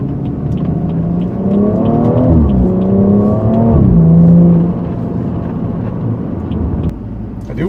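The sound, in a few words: BMW car engine and exhaust while driving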